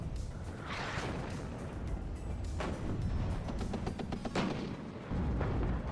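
Artillery fire in the real-time strategy video game WARNO, heard as a continuous layer of distant booms and rumbling impacts with scattered sharper blasts and game battle noise, with no talking.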